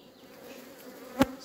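Honeybees buzzing at a disturbed hive colony, a faint, steady insect drone with one louder buzz as a bee passes close.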